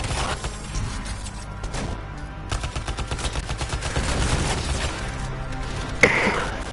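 Sustained automatic assault rifle fire in the Anthem video game, dense rapid bursts running continuously throughout with a sharper impact near the end, loud and unbroken with no talking.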